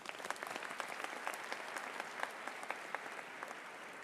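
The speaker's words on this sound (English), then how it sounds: "please join me in giving these students another hand of applause" Audience applause at a university commencement ceremony, many hands clapping steadily and somewhat distant, a dense patter continuing for a few seconds without talk.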